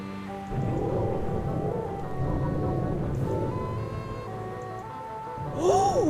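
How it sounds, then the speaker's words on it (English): Thunder rolls in a long, loud, low rumble with the hiss of steady rain, with a brief voiced exclamation near the end. "That's thunder, all right."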